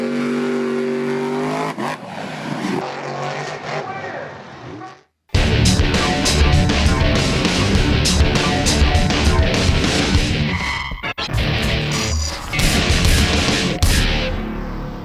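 The retro racer-stripe Bigfoot monster truck roaring at Charlotte Motor Speedway during the racing finals, a loud sustained engine that revs and surges, cuts out briefly, then returns at full power with whining gear tones and crowd ambience.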